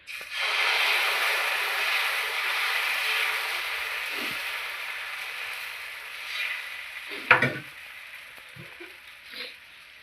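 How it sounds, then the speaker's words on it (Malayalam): Atta dosa batter frying on an oiled griddle, a steady moderate hiss that slowly fades, followed by a few faint clinks and scrapes near the end. "നമ്മൾ ദോശ ചൂടാൻ പോകുന്നത്,"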